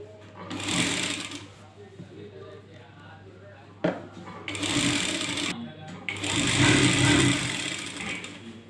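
A sewing machine runs in bursts while stitching a Patiyala salwar, whirring loud and close with short pauses between runs; someone talks over parts of it.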